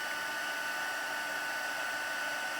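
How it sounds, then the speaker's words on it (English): A heat gun blows steadily while heat embossing a crafting design on black card, giving a constant, faint, even airy whoosh with no variation and no voices. "I like the heat embossing because then they stand out a little bit better on the black."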